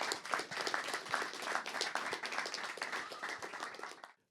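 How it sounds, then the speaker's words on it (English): Studio audience applauding and clapping steadily at close range for about four seconds, dense and even, then cutting off abruptly at the end. "let's give him a round of applause for that."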